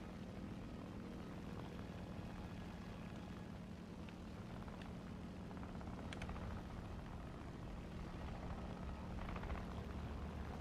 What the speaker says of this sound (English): I hear engine sound, but I do not see the plane.